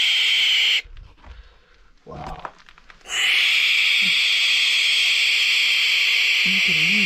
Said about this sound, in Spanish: Son unos pichoncitos de lechuza.